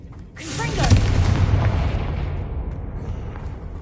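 A Confringo fire spell blast from Hogwarts Legacy, a loud booming explosion that swells in under half a second and rumbles on with a long, slowly fading roar.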